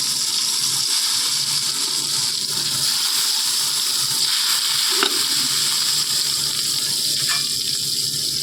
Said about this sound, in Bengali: বেগুনগুলো ভেজে তারপর আলু ভেজে নেব